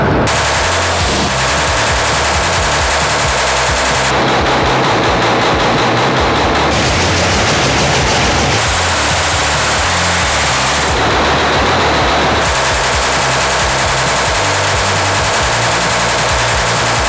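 Firearm gunfire rings out as loud, dense, continuous bursts of rapid shots that stay saturated and harsh throughout, with slight changes in tone between stretches.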